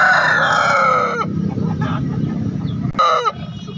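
At a chicken market in Makassar, a rooster crows loudly up close, followed by softer clucking and a second short crow near the end.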